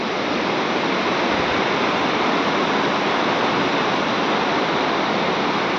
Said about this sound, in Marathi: हा सगळा आवाज आहे तो पाण्याचा आवाज आहे पूर्ण.